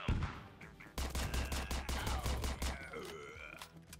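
Rapid automatic gunfire in the video game Door Kickers Action Squad, a loud rattling volley of close shots for a couple of seconds, followed by fading ringing game effects.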